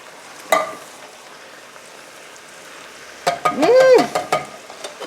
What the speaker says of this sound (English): now we're going to go ahead and add our 2 cans of tomato sauce